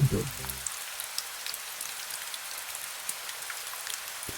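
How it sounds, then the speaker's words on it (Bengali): Steady, faint patter of rain falling, soft and evenly spread with no other sounds, after a short low murmur at the very start. "চারিদিকে নিস্তব্ধতা, আর মাঝে মাঝে বৃষ্টির শব্দ"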